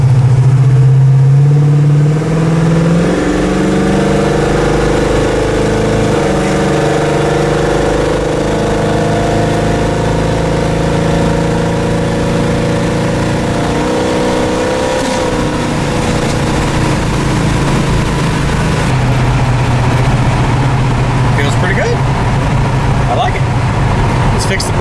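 A Pontiac LeMans with a 455 engine accelerates down the road, the engine note rising in pitch through the gears with audible shift points, loud and close throughout, while a person talks over it.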